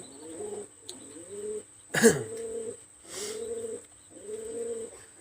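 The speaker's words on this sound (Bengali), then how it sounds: "আপনারা কবুতর দেখেন আমি কিছু কবুতর দেখাবো" Pigeons cooing at a loft of fancy breeds, several low rolling coos repeating in phrases, close and clear with a steady high whine behind them and one sharp brief noise midway.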